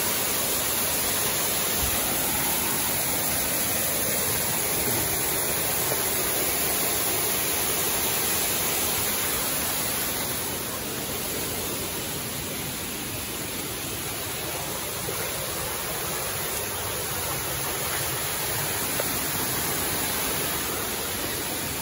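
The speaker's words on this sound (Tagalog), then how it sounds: "Nandito na tayo mga kalamat sa Pag-ibig Falls." Pag-ibig Falls waterfall pours in a steady, dense rush of roaring water that holds constant and loud throughout, with no voices over it.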